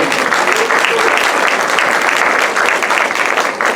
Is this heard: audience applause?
yes